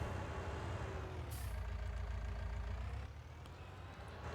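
A truck engine drones low and steady in Farming Simulator 19, with a brief hiss like an air brake near the start and the rumble easing slightly toward the end.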